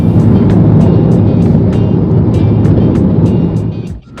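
A car drives off on a road in Kenya between Masai Mara and Nairobi, a loud, close engine and road rumble that holds steady, then drops away sharply near the end.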